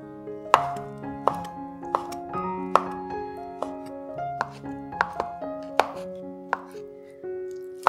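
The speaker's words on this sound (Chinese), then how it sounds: "将浸泡好的香菇切碎，" Soaked shiitake mushrooms being chopped with a knife on a board, a series of close, crisp knife strikes at an uneven pace over soft background music.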